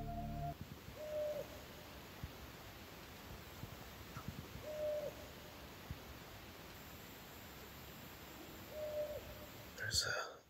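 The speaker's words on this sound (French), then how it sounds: "There's a couple owls that have been around this area. Pretty cool to listen to." Owls hooting at night near a campsite, a few soft, evenly spaced hoots rising faintly above a steady hiss of nighttime background noise, distant and quiet, with a brief louder rustle near the end.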